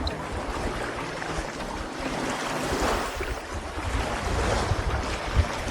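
Waves wash steadily at a natural harbour beside an ancient temple, a continuous close surf mixed with heavy wind buffeting the microphone, with no voices.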